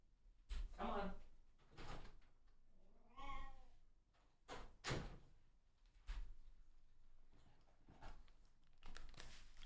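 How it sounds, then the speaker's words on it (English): A cat meows to be let out of a room, giving a close, drawn-out meow among thumps and sliding-door-like knocks, with a person talking nearby. "The cat's like, rah, I gotta go. I need out."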